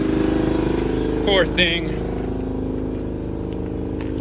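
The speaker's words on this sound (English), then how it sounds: "There's a compressor going on right there." An air compressor runs steadily in a car body shop, a constant droning hum that fills the whole clip, with someone speaking briefly over it.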